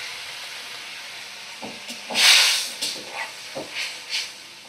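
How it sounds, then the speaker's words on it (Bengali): Half a cup of water poured into hot fried fish curry masala sets off a sharp steam hiss that swells, then fades into several short sputtering bursts, close and moderate. "এবার দেব আমি পরিমাণ মতো জল। দেখো 1/2 কাপ জল দিলাম।"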